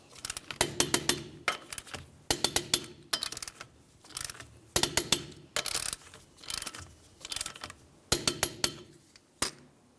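Lug nuts being snugged up on a 2010-2013 Ford Transit Connect wheel with a ratchet, rapid bursts of clicking repeated in short runs with brief pauses between, close and fairly loud.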